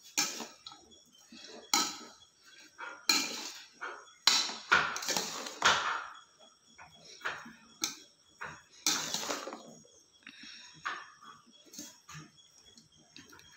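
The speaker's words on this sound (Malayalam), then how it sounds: "എല്ലാം കൂടി അങ്ങോട്ട് മിക്സ് ചെയ്യാം." Ingredients for a homemade shawarma marinade get mixed in a bowl, with a spoon clinking and scraping against the dish in a quick, uneven series of close knocks.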